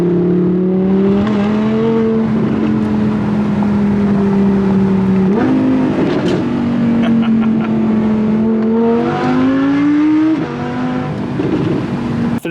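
An Audi R8 on Sottozero winter tires pulls away hard from a green light, its engine note climbing through gear changes with sustained, loud revving close by and no voices.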